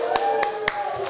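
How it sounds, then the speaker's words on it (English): A few sharp hand claps, about four, land at an even, quick pace over a steady tonal hum in the background. "Give yourself a round of applause."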